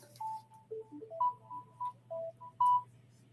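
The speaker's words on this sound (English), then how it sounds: "That was my alarm to send the link." A phone alarm plays a short melodic run of clean electronic beeps, each tone stepping up or down in pitch with brief gaps between them, heard alone at moderate volume over a low steady hum.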